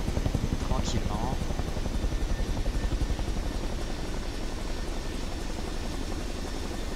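CH-47 Chinook tandem-rotor helicopter taxiing on the ground in Microsoft Flight Simulator 2024, a steady close rotor drone with fast rhythmic blade beating, with a voice talking briefly over it at the start.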